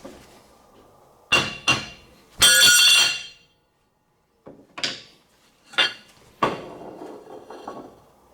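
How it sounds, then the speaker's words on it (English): A hammer strikes a shimmed piece of TIG-welded aluminum to straighten it, giving about eight sharp metallic bangs in irregular bursts, some ringing briefly, with short pauses between them. "I'm just gonna shim it up and give it a few whacks and straighten it back out"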